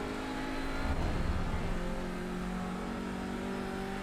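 Race car engine in a racing game taking Beckett's corner complex at Silverstone on cold tyres, a steady close drone with a brief rise in revs early on, then a sustained even tone with no talk.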